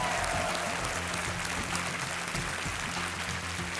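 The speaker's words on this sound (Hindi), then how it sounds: "जोरदार तालियां देवी और सजना" Steady, dense applause from a studio audience at a televised quiz show fills the whole stretch at an even level, with no break in the clapping.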